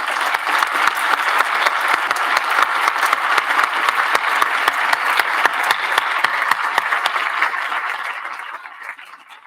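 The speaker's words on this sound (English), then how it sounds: "Please join me in a round of applause for them." An audience at a 2022 commencement ceremony claps in sustained, dense applause that holds steady and then fades away at the end.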